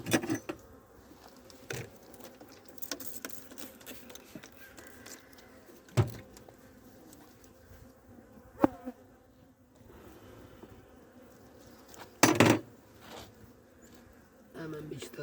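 Honey bees hum at an open hive during a December wintering check in Adana, a steady low drone broken by a few sharp knocks and clatters as frames are lifted, with a loud burst of buzzing near one moment.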